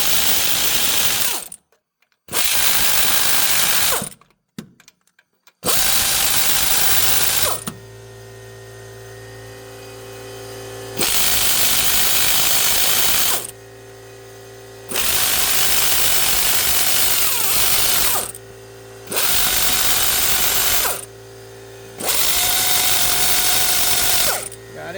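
A power driver working on bolts of a Ford F-150 engine during a head gasket and water pump replacement: loud, close bursts of rapid ratcheting and whirring, repeated several times with short pauses, over a steady mechanical hum.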